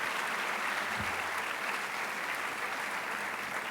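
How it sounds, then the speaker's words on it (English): Audience applause for an education team at a gathering, steady dense clapping heard at a distance and fairly soft, with no talk over it. "How about a round of applause for our ELI team?"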